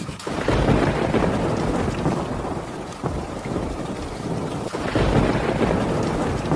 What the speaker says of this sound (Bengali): বৃষ্টি শুরু হলো তো